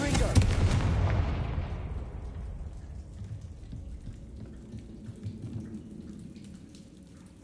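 A Confringo fire spell exploding in Hogwarts Legacy: a loud, broad blast that rolls into a long crackling rumble and slowly fades over several seconds.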